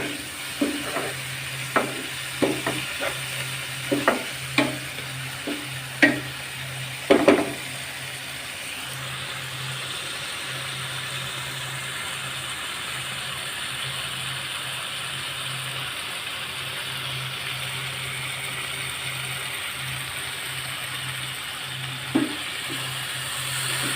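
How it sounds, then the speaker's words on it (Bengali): Coral fish curry sautéing in a pan, a run of sharp spatula taps and scrapes over the first few seconds, then a low, steady sizzle with a faint hum and one more tap near the end. "বন্ধুরা, আমি 2-3 মিনিট কষিয়ে নিয়েছি, কষানো হয়ে গেছে।"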